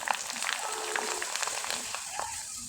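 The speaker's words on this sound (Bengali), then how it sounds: "এখন এখান থেকে কিছুটা চিপস নিয়ে আপনাদের তেলে ভেজে দেখিয়ে দিচ্ছি।" Homemade wheat flour chips dropped into hot oil, a faint, steady frying hiss with scattered soft crackles and pops throughout, heard from close by at low volume.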